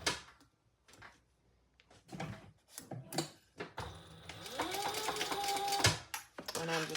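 A sewing machine bastes along the bottom of a Jeanniebag shoulder bag, starting after a few clicks and handling sounds and then running in a steady whirring stitch, with someone talking before and briefly after.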